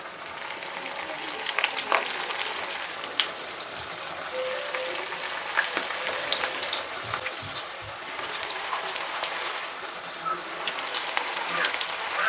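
Sharle, a Panjabi snack, deep-frying over a low flame in hot oil in a pan, with a steady bubbling sizzle and faint clinks throughout.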